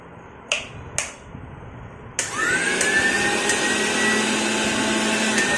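A new mixer grinder clicks twice as its switches are pressed, then starts up and whirs steadily at a loud, high-pitched drone that holds to the end, close to the listener.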